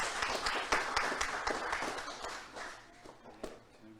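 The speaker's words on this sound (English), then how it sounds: "Ibrahim Ali, give it applause" Scattered applause from a quiz award ceremony audience welcoming a participant, uneven claps near and loud at first, then thinning and fading toward the end.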